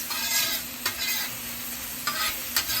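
Chopped vegetables cooking on a griddle set to low, giving a steady close hiss of frying with a few soft scraping stirs breaking through, no voices.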